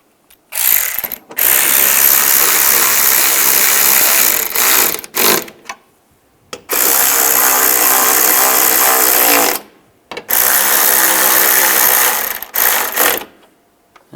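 A ratchet tightens headlight and bumper bolts on a 2010-2015 Toyota Prius, with loud, close, fast clicking in several sustained runs broken by short silences.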